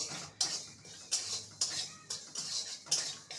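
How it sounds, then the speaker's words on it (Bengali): About a teaspoon of panch phoron spices is dry-roasted in a wok over a gas flame. A spatula scrapes the metal in rhythmic, close, clattering strokes roughly every half second, with no talking. "পাঁচফোড়নটাকে শুকনো খোলায় ভেজে নেব"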